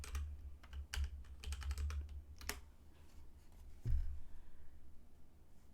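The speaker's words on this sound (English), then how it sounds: "you would go to Images, type in pumpkin" Computer keyboard typing in bursts of quick clicks, pausing and resuming, close and moderately loud over a low background hum, during image searching for a pumpkin card design.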